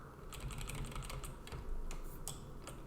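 Fingers type commands at a computer keyboard in a bash shell, a quick, uneven run of soft key clicks, faint and close, with no talking.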